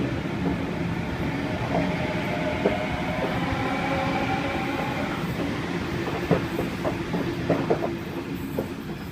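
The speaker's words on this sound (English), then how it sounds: "And there we have Waratah A1 about to depart platform 1." A Sydney Trains Waratah A1 electric train pulls away from platform 1 at Waverton, a steady loud rolling rumble with motor whine and rhythmic wheel clicks over the rails, heard alone without voices.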